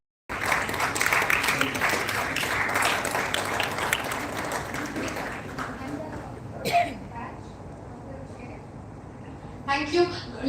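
An audience at a national oratory contest applauds after a group discussion round. Loud sustained clapping fills the first half and then thins out, with brief talk and a short renewed burst near the end.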